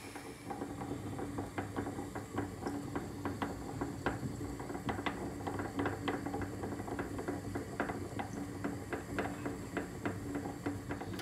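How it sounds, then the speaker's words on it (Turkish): Milk boiling in a pot on a stove gives off a steady rapid ticking and tapping, faint and continuous with a soft hiss underneath. "Kendi kendine böyle o tıkır tıkır sesle kaynadı."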